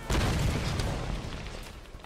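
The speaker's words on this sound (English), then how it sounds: "Oh, boy. Explosion." A blast in Tomb Raider Definitive Edition (2013) gameplay: one loud, deep boom with a sharp onset that rolls off into a rumbling tail over about two seconds, heard alone.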